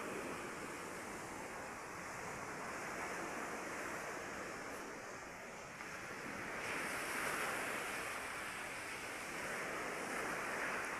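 Sea water washing into a shore, a steady broad rushing wash with a gentle swell in loudness, mixed with wind buffeting the microphone and no voices.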